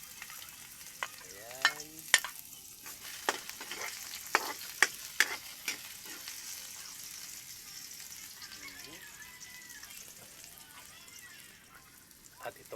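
Onions sautéing in a pan for a vegetable dish, with a soft continuous sizzle, sharp clicks and scrapes from stirring, and a brief spoken word near the start.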